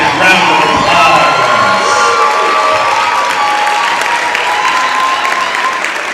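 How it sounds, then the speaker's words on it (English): Fans applaud and cheer at a high school athletic hall of fame ceremony held during a game, a steady, loud wash of clapping with crowd noise and scattered shouts throughout. "Fans, please give them a well-deserved Wildcat round of applause."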